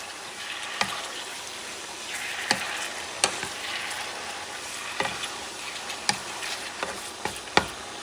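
Beef mechado cooks in a pan with a steady frying sizzle, broken by sharp, scattered clacks of a utensil stirring and tapping the pan. The sound is close and fairly loud, with no voices.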